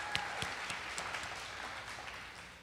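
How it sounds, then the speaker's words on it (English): Applause at a medical school senior celebration for the graduating class: a crowd claps steadily, with a few sharp claps standing out near the start before the sound slowly thins. "so round of applause for everyone"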